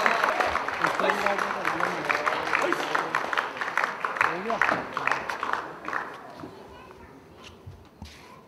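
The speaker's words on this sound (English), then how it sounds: "you are clapping, clapping soundly" Audience applause at a Kyokushindo full-contact karate belt ceremony in Pakistan, steady crowd clapping mixed with children's chatter and voices, fading toward the end.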